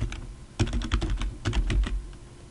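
Rapid typing on a computer keyboard, with irregular bursts of key clicks separated by short pauses, close and fairly loud, no voices.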